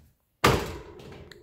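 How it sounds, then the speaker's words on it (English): A single door thuds once after a brief silence, a sharp knock-like impact that decays quickly with a faint rattle afterward. "I opened the door."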